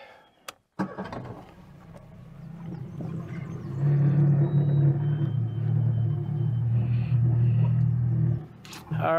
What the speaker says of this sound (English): get the motor started.